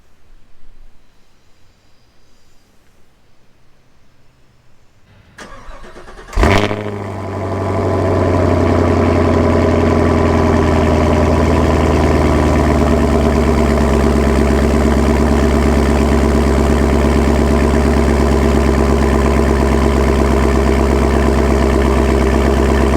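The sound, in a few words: car engine cold start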